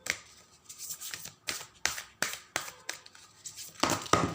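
Tarot cards being shuffled by hand in quick, regular bursts of crisp rustling and flicking, about three per second, close up and with no talking.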